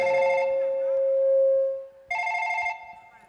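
A mobile phone rings with an incoming call: a loud electronic ringtone plays, pauses briefly around the middle, then rings again in a second clear burst, with no talking.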